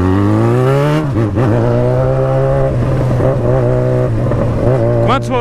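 A large tow truck loaded with motorcycles rolls past close by, its loud engine drone shifting in pitch as it moves through traffic, with voices talking over it.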